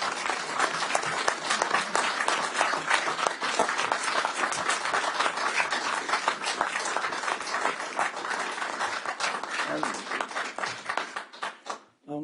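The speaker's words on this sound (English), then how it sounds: "Members, now you can join me in that round of applause." A council chamber full of members gives a sustained round of applause lasting about twelve seconds, dense steady clapping that holds loud throughout before trailing off abruptly at the end.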